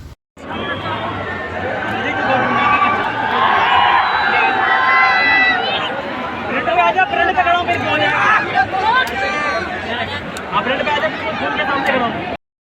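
A dense crowd at India Gate in the rain, a steady hubbub of many overlapping voices with chatter and occasional shouts, loud and continuous throughout.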